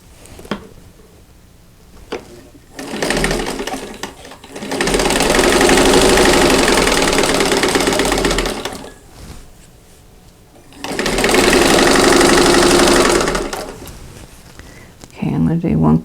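A sewing machine stitches across quilt block corners in two loud, steady runs of rapid mechanical whirring, separated by pauses with small clicks and handling noises.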